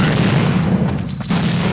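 A grenade explodes in Counter-Strike: Condition Zero, a dense, loud burst of blast noise filling nearly two seconds with a brief dip in the middle.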